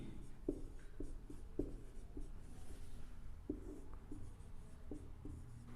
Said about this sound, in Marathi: चला प्रश्न लिहून घेऊत आपण.